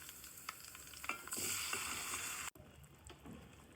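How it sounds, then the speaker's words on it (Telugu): Tomato pieces and curry leaves frying in a pan for a chickpea curry, giving a steady close sizzle with a few stirring scrapes, no talk. "మనం కట్ చేసి పెట్టుకున్న టమాటా ముక్కలు కూడా ఇందులో వేసుకుని ఒక 5 నిమిషాలు మంచిగా మగ్గించుకుందాము"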